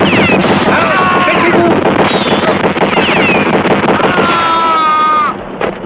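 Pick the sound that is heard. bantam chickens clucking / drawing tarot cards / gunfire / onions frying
gunfire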